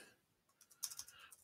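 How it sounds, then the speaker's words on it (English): Light typing on a computer keyboard: a short, faint run of several quick key clicks after a near-silent moment. "I can start typing."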